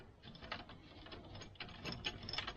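Ratchet with a socket tightening bolts on a turbo RZR side-by-side, a close, steady run of quick metallic clicks with a few brief pauses, loud and alone.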